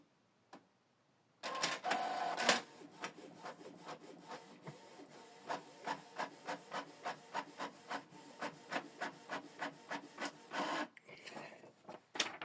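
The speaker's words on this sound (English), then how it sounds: "You can print a test page to confirm that the printer is working." Canon PIXMA MG2555 inkjet printer running a test page: a loud startup whir, then a steady series of rhythmic mechanical clicks and shuttling strokes as the print head passes repeatedly, ending with a brief louder feed noise.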